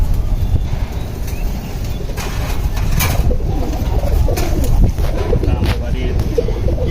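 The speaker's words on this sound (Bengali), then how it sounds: "লাল গিয়ারের সবুজ গলা কবুতর" A red-eyed, green-necked pigeon coos amid loud, busy background noise and scattered clicks and knocks, the low calls partly masked throughout.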